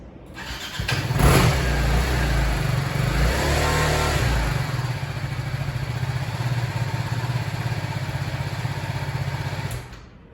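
A BMW G310R motorcycle engine cranks and starts with a loud burst, then settles into a steady, rough idle with a few revs that won't climb past about 5,000 rpm, close up and continuous until it cuts off.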